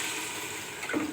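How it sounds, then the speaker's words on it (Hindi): Water poured into a cooking pot for yakhni pulao, a short splashing, sizzling pour at low level that rises briefly near the end. "इसमें ही पानी डाल दूँगी।"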